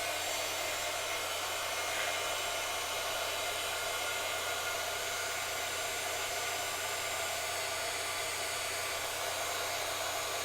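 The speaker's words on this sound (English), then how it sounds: "You're going to take your embossing gun" A heat gun for embossing blows hot air with a steady, even whooshing roar that holds constant close to the microphone throughout, with no speech.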